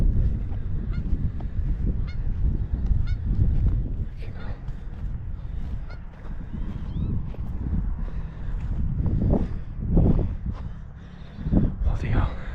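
A field full of geese honking repeatedly near a quarry, loud overlapping calls under wind noise, with people talking throughout.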